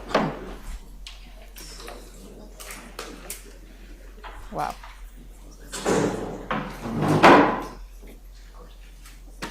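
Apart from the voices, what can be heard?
door slamming shut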